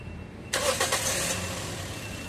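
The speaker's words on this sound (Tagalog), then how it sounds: "Start ko ulit itong makina mga boss." A Toyota Vios engine, noisy when warm and stalling at low idle, cranks briefly and catches, settling into a loud, rough idle up close with no one speaking.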